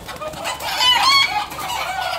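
Farm chickens cluck and squawk close by in a coop, one bird letting out a loud drawn-out call in the middle amid softer clucking and a low background hiss.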